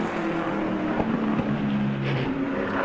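Pro late model race car number 9 taking the green flag during qualifying at New Smyrna Speedway, engine droning loudly and continuously at high revs, with a rising and falling pitch as it runs the track, no talk.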